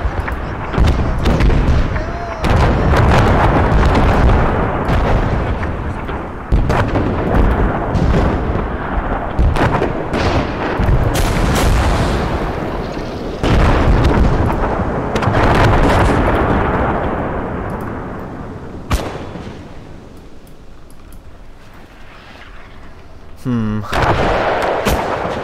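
Battlefield combat in the Gates of Hell war game: mortar blasts and rolling artillery and gunfire crash almost nonstop, loud and dense, easing slightly near the end before another burst.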